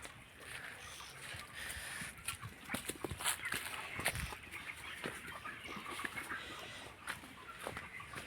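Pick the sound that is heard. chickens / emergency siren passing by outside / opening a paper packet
chickens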